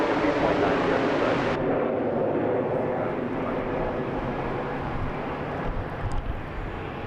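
Delta jet airliner departing Las Vegas airport, a broad steady engine roar that stays loud throughout, with the high hiss dropping away early as the aircraft moves off.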